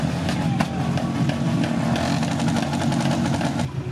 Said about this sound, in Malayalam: ആയിരങ്ങൾ പങ്കെടുക്കുന്ന ബൈക്ക് റാലി നടക്കാൻ പോവുകയാണ്